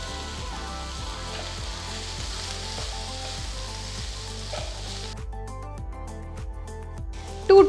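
Finely chopped carrots and beans fry in a pan for wheat rava upma, giving a steady, even sizzle that runs under rhythmic background music for several seconds, then a sharp clatter at the very end.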